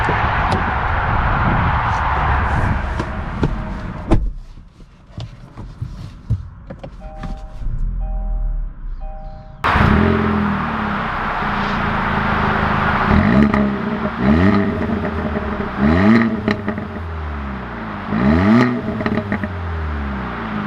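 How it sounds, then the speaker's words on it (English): A 2020 Kia Forte GT with a manual gearbox pulls away, heard from inside the cabin. After a quiet stretch, the engine note climbs repeatedly through the gears in loud rising sweeps. "let's take this Forte GT out and see how it drives"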